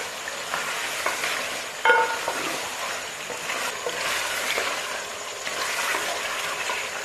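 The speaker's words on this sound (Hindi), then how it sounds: "अब इसमें आलू शामिल कर दूंगी और इनको भी 10 मिनट के लिए भून लूंगी।" Chicken pieces and potatoes fry in a pan with a dense, steady sizzle and stirring scrapes, plus a single sharp metallic clink early on.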